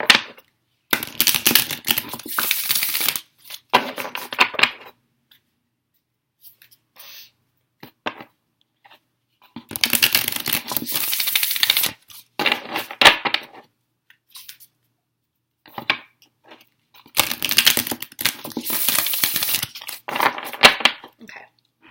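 Affirmation cards are shuffled and pulled in three separate bursts of crisp riffling and flicking, each lasting a few seconds, with quiet pauses and light taps between them.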